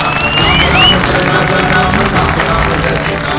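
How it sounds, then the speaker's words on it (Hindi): Audience applause at a Ramayana performance where Rama slays Ravana, a steady wash of clapping and crowd noise at even loudness for a few seconds. "तालियां"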